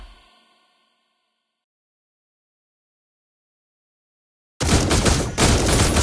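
Granger's gunfire in the Mobile Legends game: a loud, dense stream of shots begins abruptly after a long silence and continues steadily to the end, with a short dip in the middle.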